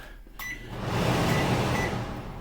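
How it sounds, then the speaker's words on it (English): A microwave's vent fan gives a steady, whooshing hum that rises and holds, with a brief click and faint tonal beeps near the start. "I mounted the new microwave. It has a vent fan."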